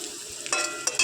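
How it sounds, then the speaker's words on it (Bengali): Chopped onions frying in a pan for chicken biryani: a soft, steady sizzle close by, with a few sharper bursts of crackle near the end. "এগুলোকে একটু ভালো করে ভাজবো।"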